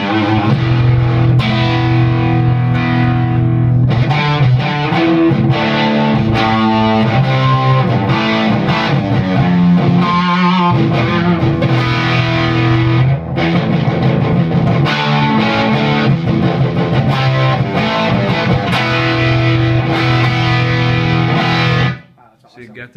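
Electric guitar played through a Red Iron tube amp with heavy distortion, a loud, sustained growling stream of chords and riffs with a thick, saturated tone, continuous for over twenty seconds before cutting off abruptly near the end.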